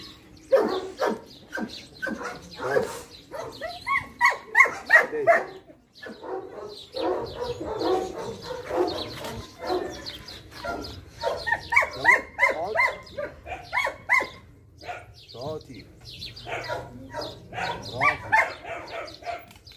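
A dog barks and whimpers in repeated bursts across a domestic scene, fairly close, with birds chirping and cooing in the background and a low hum underneath.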